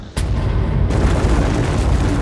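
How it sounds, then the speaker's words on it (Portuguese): Supernova explosion sound effect: a sudden deep boom hits at once, then a loud, sustained rumbling roar that swells and keeps going, broad and heavy, with no voices. "quando acontece fazem kabum! E explodem em 1000 pedaços"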